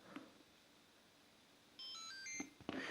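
A Motorola C205 mobile phone from 2005 powering on, giving a short melodic run of clear electronic beep tones that step through several pitches, with faint handling clicks before and after in an otherwise quiet room.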